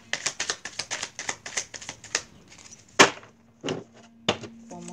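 A tarot deck shuffled by hand during a love reading: a quick run of crisp, close card clicks, then a few separate sharper slaps and taps.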